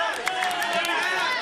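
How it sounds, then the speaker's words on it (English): A wrestling crowd claps and murmurs at a match, a steady wash of applause and chatter heard from a distance, with no single voice standing out. "Hey, let's give him a round of applause."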